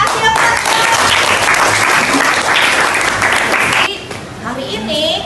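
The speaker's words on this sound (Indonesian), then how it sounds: "Kasih aplaus." Students applaud in a classroom during a civics lesson, a loud burst of clapping lasting about four seconds before it drops off, with a teacher and children talking.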